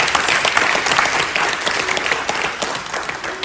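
Audience applause at a military retirement ceremony for a master sergeant, many hands clapping in a continuous, lively roar with scattered sharper claps standing out.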